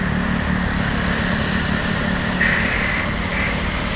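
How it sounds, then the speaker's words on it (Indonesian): Bus engine idling steadily as the bus pulls into the Yoanda Prima terminal, a loud, constant rumble that swells briefly midway, with no voices. "ini ya bus yang baru tiba masuk ke Yoanda Prima, unit terbaru"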